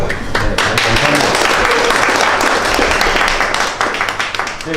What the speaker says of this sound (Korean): 마지막으로 이렇게 담당하고 계시는 분에게 큰 박수 치면서 이 자리를 마쳤으면 좋겠습니다